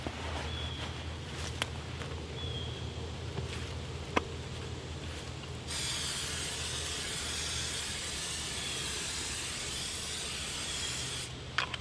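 Water-repellent DWR spray hissing from a can onto an anorak, a soft broadband hiss with short bursts at first, then one long steady blast lasting about six seconds before it cuts off.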